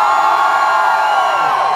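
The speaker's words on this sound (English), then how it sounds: "I like it when you're nasty. Scream, San Antonio." A large concert crowd in San Antonio at a live rock show screams and cheers loudly and continuously, a dense wall of high-pitched shouting with no single voice standing out.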